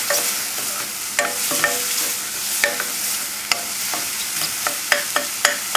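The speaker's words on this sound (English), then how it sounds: "we're going to thicken this up with Wondra" Wondra flour being stirred into a simmering chasseur sauce, heard as a soft steady bubbling sizzle with repeated sharp clicks and scrapes of the utensil against the pan, close and without talk.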